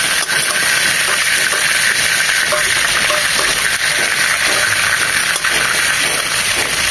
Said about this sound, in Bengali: এই পাশটাও এরকম 3 মিনিট ভেজে নেব।